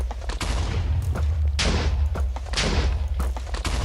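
Gunfire aimed at the player in a Minecraft game, with repeated sharp thumping shots and bursts over a steady low rumble, fairly loud and continuous across the scene.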